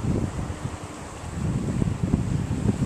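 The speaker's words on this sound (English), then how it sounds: "that was a big wave, just splashed out. The seas are pretty high because of the big storm." High storm seas after a big storm with near-hurricane gusts, waves surging and splashing with a steady roar under strong wind buffeting the microphone, loud and continuous with repeated swells.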